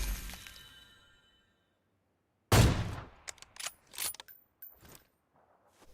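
Gunfire in a video game while shooting from up in trees, a sharp loud shot followed by several quick cracks and clattering bursts, with a fading ring before it.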